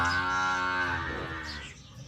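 A dairy cow on a farm lets out one long, loud, close moo that slowly fades toward the end.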